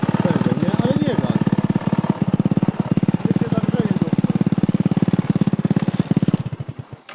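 A cheap, well-worn scooter engine bought secondhand runs steadily up close, with a fast, even putter that holds for about six seconds and then sputters down at the end, while people talk over it.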